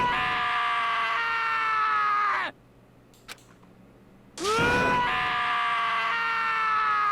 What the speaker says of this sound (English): As Taka's sad screams invaded our skulls